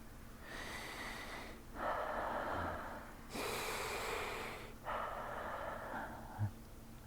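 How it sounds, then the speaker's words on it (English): A person breathes close into the microphone for ASMR, with several long, loud airy inhales and exhales in slow succession and a brief soft bump near the end. "I'm sorry, does my breathing bother you?"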